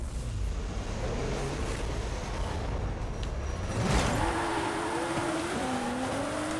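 A Nissan GT-R R35 launches in a drag race in Forza Horizon 5, its engine note rising through gear changes, with a sharp shift burst midway under a constant roar of wind and road noise, moderately loud and with no talking.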